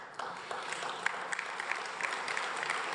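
Audience applause at a gathering in Rome, a soft, moderately distant patter of many hands with a few sharper individual claps standing out, starting just after a brief quiet moment and continuing steadily.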